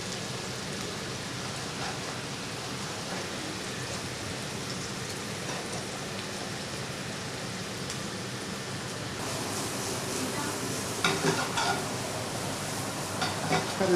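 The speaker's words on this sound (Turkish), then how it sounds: "patatesi ve mantarımızı soteliyoruz." A steady, dense sizzle and crackle of potatoes and mushrooms sautéing in a hot pan, continuous throughout with a few louder spits and stirring scrapes near the end.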